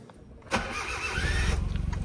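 A small Japanese kei car engine cranks and catches with a sharp burst, then settles into a rough, pulsing idle close by.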